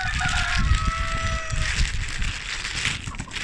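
Backyard hens cluck steadily and a rooster crows near the start, all close and lively, with a busy rustling of the flock underneath.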